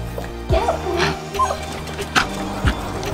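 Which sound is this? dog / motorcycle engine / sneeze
dog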